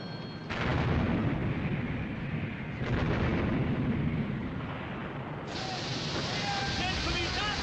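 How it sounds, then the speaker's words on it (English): Warship turret guns firing in a 1956 WWII naval battle film, heavy booming blasts that swell into a sustained roar, with a second salvo following and shouted voices over the din. "She's firing again! With another 2 turrets!"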